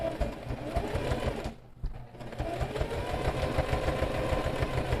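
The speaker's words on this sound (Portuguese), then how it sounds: "vou fazer uma costura reta aqui." A sewing machine stitches a straight seam: a dense, rapid mechanical whirr and rattle runs close and loud, pausing briefly near the middle before resuming, with no talk.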